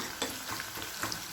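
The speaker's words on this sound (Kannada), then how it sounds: "ಸಾಸಿವೆ ಹಾಕ್ಬಿಟ್ಟು ಕರಿಬೇವು ಮತ್ತು ಈರುಳ್ಳಿ ಹಾಕಿ ಒಗ್ಗರಣೆ ಹಾಕಿದ್ದೀನಿ." Mustard seeds, curry leaves and onion sizzle in hot oil for a sambar tempering, a close, steady frying hiss with soft crackles and occasional stirring scrapes, no talking.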